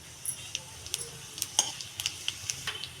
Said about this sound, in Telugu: కొంచెం ఆయిల్ వేసుకుందాం ఇప్పుడు ఇందులో ఒక స్పూన్ జీలకర్ర వేసుకుందాం